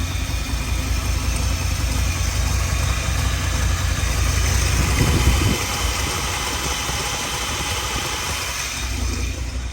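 A 1959 Lincoln V8 idles steadily right after a fuel pump replacement, a continuous low rumble with a slight swell midway, close and alone with no talk.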